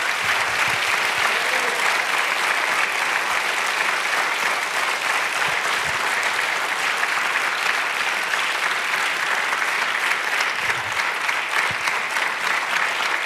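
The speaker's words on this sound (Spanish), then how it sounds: "déle un aplauso al Señor con todas sus fuerzas en esta mañana" Loud, sustained applause from a large church congregation, dense and continuous clapping filling the room for many seconds.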